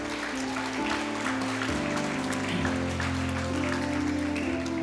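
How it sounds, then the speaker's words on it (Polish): Theatre audience applause for the actors of a stage production, continuous clapping heard alongside sustained musical tones that shift in pitch. "Wielkie brawa."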